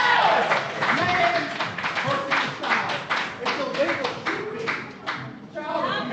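Spectators at a grappling event clap and cheer for the champion, a burst of rapid applause and shouts that fades then swells again, with an announcer talking over it.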